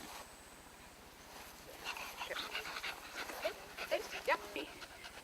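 A show dog at a 4-H comparative judging event pants in quick, breathy bursts close by, rising over a low steady hum in the second half.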